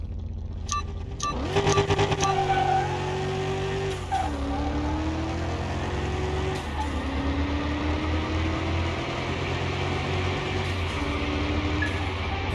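A drag van launches and accelerates hard down the strip in the video game Car Mechanic Simulator 2021, its engine note climbing in pitch and dropping back at each gear change, loud and continuous with no talking.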